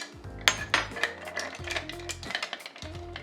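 A Negroni stirred in a mixing glass, with a bar spoon swirling ice in a quick rhythmic run of light clinks and rattles, close and clear.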